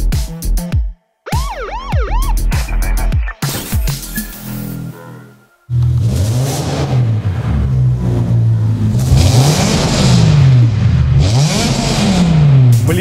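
A BMW M5 E60 engine revved hard indoors, loud and close, with sharp rising and falling rev sweeps, brief cuts to near silence, then a sustained, booming run of repeated revs echoing off the walls.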